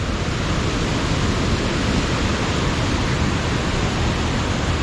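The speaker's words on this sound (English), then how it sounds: "Some waterfall over here." Steady, loud rushing roar of a big-volume waterfall along Going-to-the-Sun Road in Glacier National Park, a continuous dense wash of falling water with no talk.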